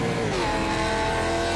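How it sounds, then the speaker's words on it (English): A Mustang FR500 race car in iRacing at Virginia revs hard and loud after a clutch dump, its engine pitch climbing steadily up close, with no talking. "The Revs climb there as he dumps the clutch in"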